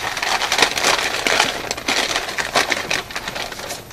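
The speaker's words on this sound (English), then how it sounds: "And then you're going to open up your paper sack." Paper sack opened after crumpling newspaper, a close run of dense crinkling and rustling paper crackles in irregular bursts throughout.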